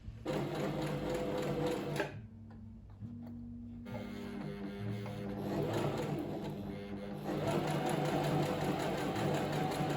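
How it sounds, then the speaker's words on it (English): Stitching a fabric pocket, a sewing machine whirs with a steady, close mechanical rattle. It drops to a softer, slower run partway through and then picks back up at full speed. "now I'm going to just start off by sewing the pocket"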